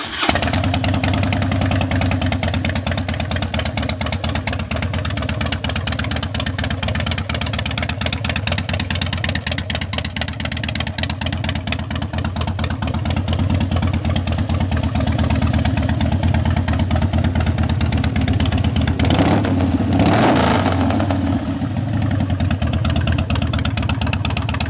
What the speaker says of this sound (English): twin cam 88 motor with the 5-speed.